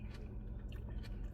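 Close, soft chewing of Jamaican food, a mouthful of vegetables, with a few moist crunches and squishes over about a second and a half, alone without talk.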